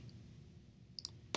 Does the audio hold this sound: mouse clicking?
yes